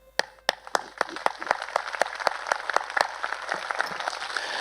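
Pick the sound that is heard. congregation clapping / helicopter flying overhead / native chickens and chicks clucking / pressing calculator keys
congregation clapping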